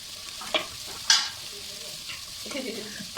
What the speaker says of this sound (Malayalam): അതുകൂടി നമുക്ക് ഇതിലേക്ക് ഇട്ടിട്ട് നന്നായിട്ട് തന്നെ ഒന്ന് വഴറ്റിയെടുക്കണം